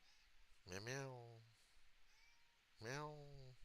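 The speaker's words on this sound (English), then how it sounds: "I got this damn cat yelling at me." Two drawn-out, nasal meows close by, each falling in pitch, separated by a short quiet pause.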